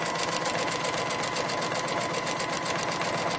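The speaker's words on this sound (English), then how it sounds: "And I'm going to sew on that line." Sewing machine stitching a paper-pieced quilt block, running steadily and evenly throughout at close range with a continuous rapid needle rhythm, no talking.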